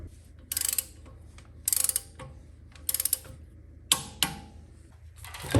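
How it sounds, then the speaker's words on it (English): A car parking brake is pulled on, giving quick clusters of ratchet clicks in several separate bursts, plus a few sharper metallic clicks, close and clear over a low hum. "Putting the parking brake on now."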